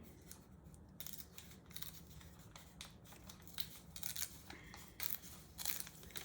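Fabric being torn into small strips for a crumb quilt, very quiet, close ripping and snipping sounds in short irregular bursts.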